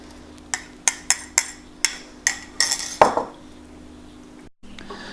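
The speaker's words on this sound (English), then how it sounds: "And then we'll stir to combine, and we'll do that till all the eggs are mixed into the dough" Metal spoon clacking against a pan while eggs are stirred into choux pastry dough for French gougères: a run of sharp, regular clinks, close and distinct, then a brief scraping burst and quiet.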